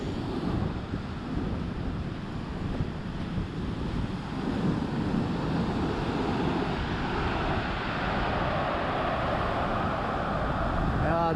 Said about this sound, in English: I'll dodge the waves here for a couple shots and then retreat.